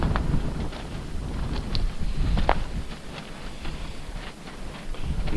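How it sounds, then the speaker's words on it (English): Strong wind blowing around an outdoor camp kitchen and clam shelter, heard as continuous low rumbling gusts and buffeting close to the microphone, with occasional faint knocks. "Here's some more wind. Very heavy wind."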